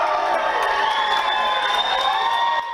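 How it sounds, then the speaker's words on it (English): A school crowd at East Middle School cheers loudly for a Buffalo Bills football player, with a dense, continuous roar of excited children's shouts and whoops. "You can hear how pumped up the crowd at East Middle School was to see Buffalo Bills safety Damar Hamlin"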